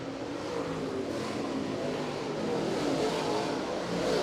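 Late model race cars roar around Merritt Speedway during a feature race, a dense, continuous engine drone from the pack that swells slightly as cars pass, loud and sustained throughout.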